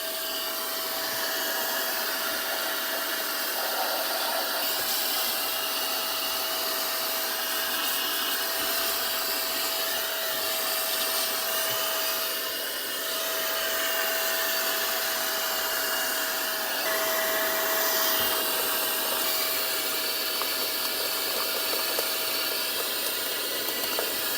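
A Mioji AD72 rechargeable air blower runs at maximum speed, giving a loud, steady, high-pitched whine and rush of air for the whole stretch, close by with no voices.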